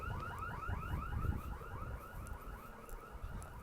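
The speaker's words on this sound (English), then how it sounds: "Gotta walk away from the direction of the car alarm now." A car alarm whooping in repeated rising sweeps, steady and fairly distant, with outdoor background noise beneath it.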